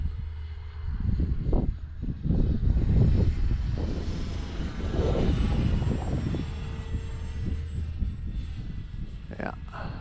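A radio-controlled Dynam C-47 model airplane drones overhead on a windy day, its engine pitch rising and falling as it passes, with wind noise throughout.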